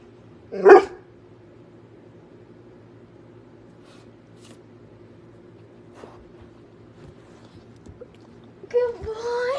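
A dog lets out one loud, sharp bark up close, then the room falls quiet apart from a low hum. A short vocal sound follows at the end.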